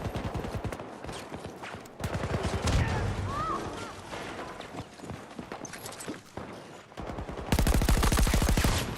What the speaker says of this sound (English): that's sounded like 2 headshots to me right there